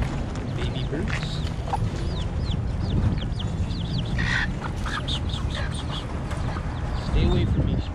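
Birds with their young at a fortress in Cartagena, Colombia, give repeated chirps and short calls over a noisy outdoor background, with a louder burst of calling near the end.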